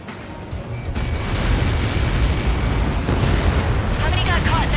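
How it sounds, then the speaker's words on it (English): Heavy missile-impact explosion in the Ace Combat 7 flight game, a sustained loud low rumble and roar rolling on for several seconds, with a faint voice audible near the end. "How many got caught in that explosion?"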